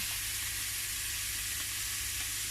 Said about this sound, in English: so we're going to fry this off